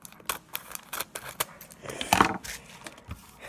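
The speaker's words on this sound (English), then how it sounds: "So let's get our handy dandy scissors." Handheld scissors snip and clack in a quick series of short, close, fairly quiet cuts, with a brief rustling burst in the middle, while a Polaroid camera kit is being set up.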